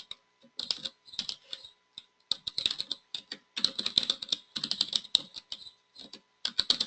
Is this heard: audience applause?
no